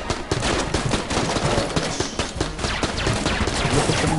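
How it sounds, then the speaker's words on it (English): Enemy gunfire in Enter the Gungeon: dense, continuous rapid shots with overlapping bursts, steady and loud throughout the whole stretch with no pauses. "They're trying to shoot me full of bullets, but it's not going to work."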